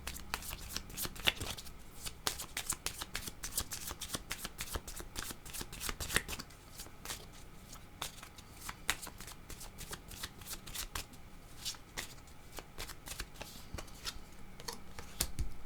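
Cards being shuffled for a card reading give a steady, close, crisp flicking patter that runs continuously, with only faint background noise and no clear talking.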